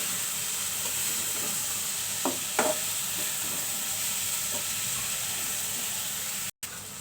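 Masoor dal sizzles and fries in a pan with a constant close hiss and a few soft clinks of stirring, with no speech.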